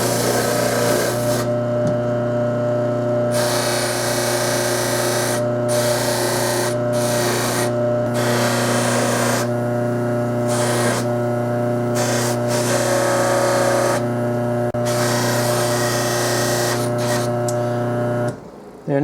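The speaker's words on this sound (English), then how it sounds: "So I'm going to buff all that up." A buffing wheel loaded with coarse compound polishes a brass trumpet part, giving a steady motor hum and whir with repeated scrubbing bursts as the piece is pressed against the wheel and pulled away, close and continuous.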